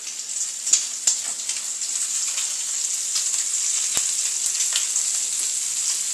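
Burgers sizzle on a grill pan heated to medium high, a steady bright hiss with a few sharp pops and crackles near the start. No one speaks.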